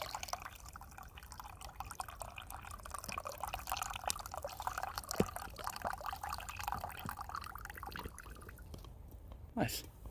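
Water trickling and dripping as it drains through a strainer packed with pine needles outdoors, faint continuous running with scattered drips, under occasional talk.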